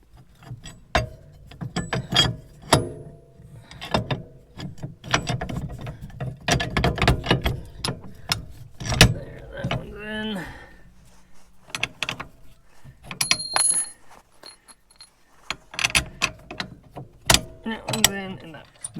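Work on Yamaha Grizzly ATV track parts, with irregular metallic clanks, ratcheting clicks and tool knocks from bolting the parts up, close by and intermittent, plus a few brief squeaks.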